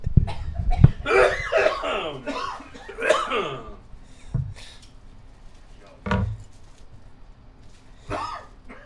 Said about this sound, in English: we got the whole back room coughing